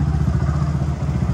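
A race motorcycle engine running close by, with a steady, loud, throbbing beat pulsing rapidly for just over a second.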